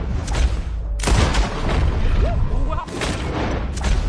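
Loud booming gunshots ring out in a PS4 video game, two heavy blasts about two seconds apart over steady game noise, with a voice exclaiming briefly.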